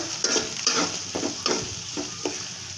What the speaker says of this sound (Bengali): একটু ভালো করে ভাজা ভাজা করে নেব যেন সবজিটার ভালো একটা ধান আসে